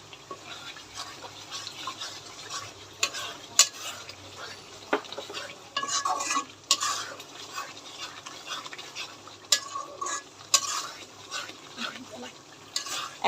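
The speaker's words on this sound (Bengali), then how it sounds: "এখন মশলাগুলি খুব ভালো করে কষিয়ে নিচ্ছে।" Spices being sautéed with tomato sauce for a Bengali-style chicken roast, a spoon stirring and scraping the pan in irregular strokes over a soft, steady sizzle, with occasional clinks of cookware.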